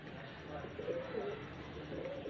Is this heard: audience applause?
no